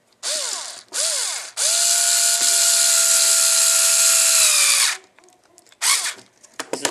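A power screwdriver drives a screw into a small upper mount on a Tamiya CR-01 RC truck, whirring in short bursts and then one long sustained run, loud and close.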